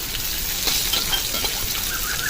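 Raw mango pieces coated in salt and turmeric drop into hot oil with whole mustard seeds and dried red chili, giving a close, steady, dense sizzle that runs unbroken throughout.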